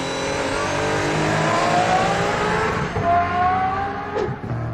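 An Aston Martin Valkyrie hypercar with an extremely loud engine revving hard on a race track, rising and shifting pitch with gear changes, close and dominant with no talk.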